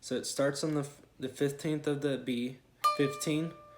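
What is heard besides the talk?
No distinct noise like a dog, phone or traffic.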